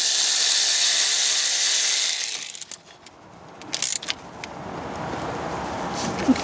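A cheap ratchet fitted with a universal joint tightens a bolt, giving short bursts of close mechanical clicking after a steady hiss fades. Scattered metallic ticks and low handling noise follow.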